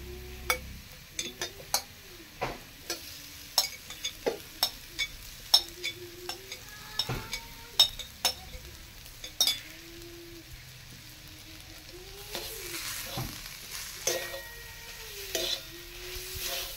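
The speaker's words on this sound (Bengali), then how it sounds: "এবার নাড়তে থাকবো খানিকক্ষণ, শুকনো করে ভাজবো।" Grated potato is stirred and dry-fried in a pan for hilsa fish cutlets, with a run of sharp spatula taps and scrapes giving way to a steadier soft sizzle near the end.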